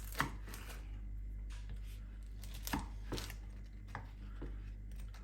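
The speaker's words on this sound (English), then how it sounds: "There's your sausage rolls cut up." Knife slicing through sausage rolls made with low-calorie wraps into party-size pieces on a board, a series of sharp, close cuts and taps at an irregular pace, separated by a low steady hum.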